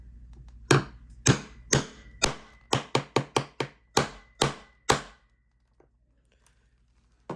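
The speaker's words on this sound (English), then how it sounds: "now we need to set all of our rivet snaps together." Hammer strikes setting rivet snaps into a leather sheath, about a dozen sharp, close taps at an uneven pace that quicken in the middle before stopping, followed by near silence.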